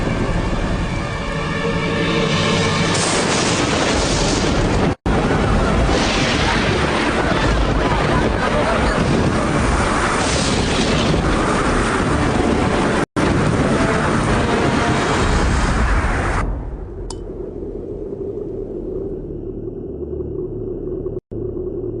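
A storm sound effect in an animated Little Krishna cartoon: loud roaring wind and crashing water rumble continuously for most of the clip, then drop to a quieter low drone near the end.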